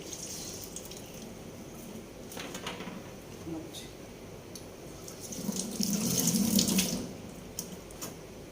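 Vegetables being rinsed under a running kitchen tap, with a steady wash of water that swells and splashes louder toward the end; a faint voice is heard at times.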